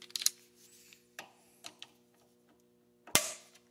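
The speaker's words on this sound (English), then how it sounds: "Let's do a reverse torque test." A torque driver set to 30 inch pounds, turned in reverse on a rifle bolt, gives a few sharp mechanical clicks and ticks spread across a quiet stretch, with one louder snap near the end.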